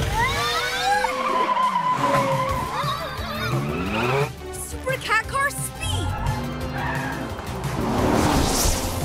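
Cartoon car speeding with loud tire-skid squeals and engine whooshes, swerving pitch sweeps throughout, mixed with character voices and music in a kids' superhero animated show.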